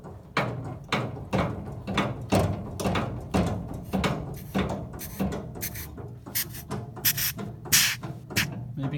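Brake booster on a Ferrari 250GTE being worked by hand, giving a steady series of soft, breathy chuffs and rubbing pulses at close range, repeating roughly every half second with no talking.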